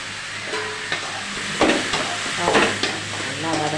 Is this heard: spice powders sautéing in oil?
yes